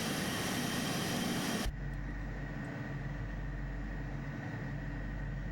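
Learjet 35A engines on the ground in Microsoft Flight Simulator 2024: a loud broadband whine and roar that abruptly drops to a lower, steady rumbling hum partway through, with no talk.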